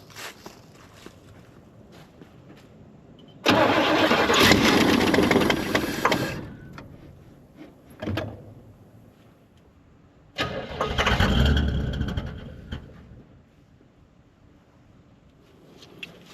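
A 1969 Jeep Wagoneer, idle for 40 years, cranks loudly in two long bursts with a short sputter between them, its engine catching and firing roughly up close, and quiet gaps in between.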